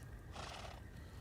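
A horse in a fantasy TV drama gives one short, high neigh, faint and distant, over a low background rumble.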